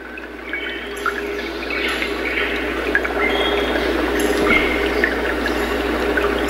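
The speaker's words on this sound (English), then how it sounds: "And like a babbling creek." A Roffie white noise machine plays a babbling creek track: a steady, close trickling and pouring water texture, continuous and even in level throughout, with no voices.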